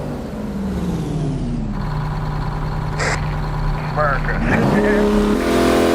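Two-stroke truck engine in American Truck Simulator, a loud steady droning rumble that climbs into a rev near the end, with people talking over it.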